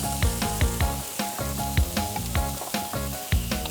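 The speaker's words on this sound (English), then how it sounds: "And you want to hear that sizzle." Liver sizzles loudly on a hot grill, a steady crackling hiss broken by sharp pops and spits throughout, with no talking.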